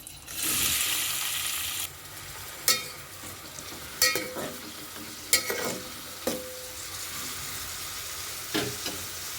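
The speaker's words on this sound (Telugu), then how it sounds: "ఆయిల్ కాగిందండి ఉల్లిపాయలు వేసేస్తున్నాను" Onions dropped into hot oil burst into a loud sizzle, then settle into steady frying, broken by several sharp scraping stirs against the pan at intervals.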